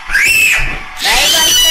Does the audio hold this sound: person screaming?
yes